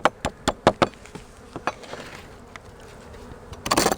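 Honeybees buzz around a ventilated hive fitted with small traps, a close insect drone broken by several sharp knocks and taps on the wooden box.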